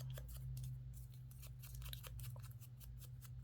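Scissors snip through a book page in a series of quick, close, crisp cuts, repeated steadily over a low constant hum with no talking.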